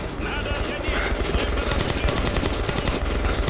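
Sustained gunfire from a battle in the video game Metro: Last Light, dense and continuous throughout with a steady loud rumble, heard alongside the game's other noise.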